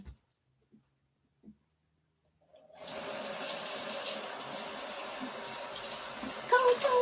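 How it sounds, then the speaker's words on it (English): A tap runs steadily into a water bottle after a couple of seconds of near silence with a few faint knocks, water splashing and rushing continuously up close. "Getting water everywhere else except my bottle."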